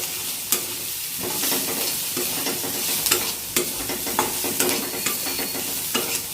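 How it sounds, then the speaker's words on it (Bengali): Onions and two spoons of besan (gram flour) are stirred and fried together in a pan for onion kachori, giving a steady close sizzle with frequent scraping strokes throughout. "এখন এর মধ্যে দিয়ে দিচ্ছি 2 চামচ বেসন। তো বেসনটা দিয়ে একটু ভালো মতো মিশিয়ে নিই পেঁয়াজটার সঙ্গে।"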